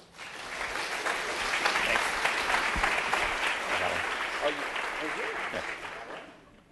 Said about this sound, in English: please give a big round of applause to Daniel Romano